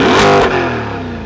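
A 2020 Chevrolet C8 Corvette's exhaust, heard from outside the car, gives a loud, rough blast that peaks briefly and then settles into a lower, fading rumble, with no voices over it.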